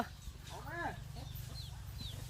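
Hens on a rural Thai farm clucking in short, rising bursts at moderate distance, with a steady low engine-like drone and a faint voice underneath.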